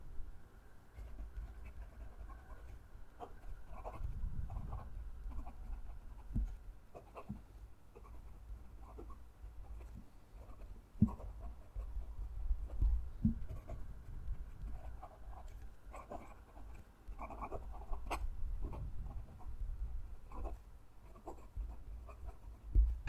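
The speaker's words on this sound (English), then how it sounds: "Going to move the mic down to the page and write a sentence." Kanwrite Heritage Ebony fountain pen with a somewhat stiff nib writing a sentence on paper, heard close up as soft continuous scratching with irregular strokes and small taps, quiet and steady throughout with no talking.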